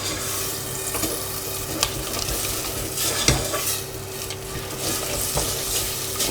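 Butter and sugar melt in a pan for toffee while a utensil stirs and scrapes steadily around the bottom and corners. A soft, constant sizzle runs under the stirring, close up, with no talk.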